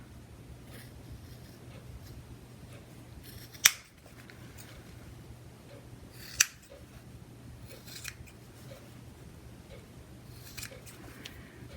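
Scissors trim the corners of a fabric face mask, giving two sharp, distinct snips a few seconds apart over a quiet background, with faint lighter snips after them.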